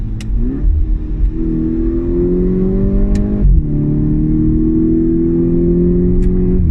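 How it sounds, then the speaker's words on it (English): A Volkswagen Mk6 GTI with a DSG gearbox accelerates hard in close, loud engine sound, its pitch climbing through gears, with sharp exhaust farts cracking at each upshift. "we love DSG farts"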